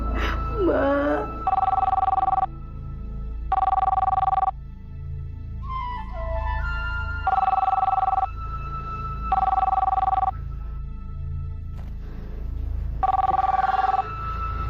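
A telephone ringing in repeated regular bursts, each about a second long, with pauses between them, fairly loud and close, while an animated scene with voices and a brief whooshing effect plays around it.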